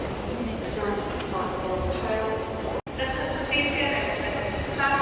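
Busy ambience inside a railway station in Glasgow, Scotland: a steady wash of crowd and train noise with people talking throughout, briefly cut by a sharp dropout midway.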